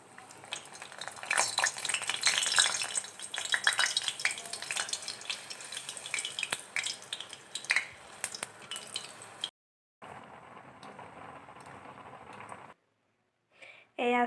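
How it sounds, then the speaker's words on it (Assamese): Puris for phuchka fry in hot oil in a wok, giving a dense, crackling sizzle with occasional clinks that continues for several seconds, then drops to a quieter fizz with brief gaps. "কেৰাহী এটাত তেল গৰম হ'বলৈ দিছোঁ, দি এইকেইটা এনেদৰে বহাই দিছোঁ"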